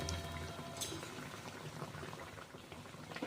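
Bread batata vada frying in oil over low heat, a quiet, continuous bubbling sizzle heard close up with no voices.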